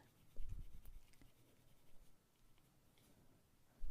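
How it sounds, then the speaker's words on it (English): A pencil scratches fine details onto a line-and-wash watercolor painting, quiet intermittent strokes with a few slightly louder scrapes, heard alone close up. "use a pencil like this"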